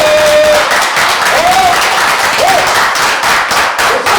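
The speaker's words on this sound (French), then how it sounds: "Et un peu d'applaudissements pour vous" Loud, close audience applause at a finale event fills the whole stretch with continuous dense clapping, with a few faint whistle-like tones above it.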